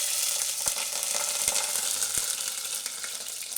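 Cumin seeds and chillies crackle and sizzle in hot oil, a dense steady frying hiss with a few sharp pops, close and alone with no voices.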